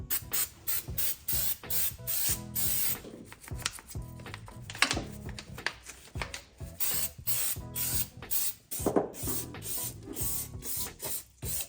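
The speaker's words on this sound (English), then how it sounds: "I'm just gonna kind of give it a little brake clean scrub down" Brake cleaner hisses out in repeated short spray bursts onto 1JZ VVTi turbo kit parts, mixed with scrubbing and rubbing sounds, close-up with no talking.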